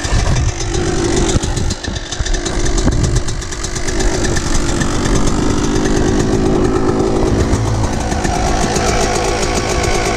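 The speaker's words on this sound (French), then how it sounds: "vous regardez bien le kick, vous verrez qu'elle démarrera au quart de tour" A cold motocross bike engine runs right after a kick start with the choke just pulled off, a loud, close, continuous rattling two-stroke-style buzz that holds steady throughout with no talking.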